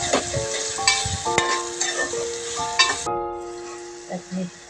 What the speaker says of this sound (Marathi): आता त्याच्यात मी टॅमॅटो टाकते, चांगलं परतून घेते.